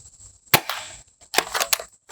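An Adventure Force Aeon Pro toy foam blaster fires over a chronograph: one sharp, loud crack, then a quick burst of several snappy shots in close succession, near and alone.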